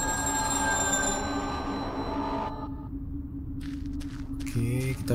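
Telephone ringing in the video game Afterdream, a steady electronic ring over a low hum that cuts off, followed by scattered game sounds.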